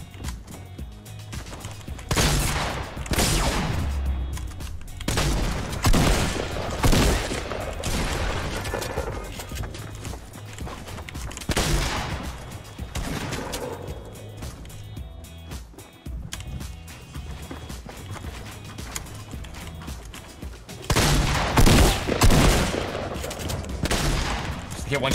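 Repeated bursts of Fortnite Battle Royale gunfire crackle over a busy game mix, loud and dense in several volleys throughout.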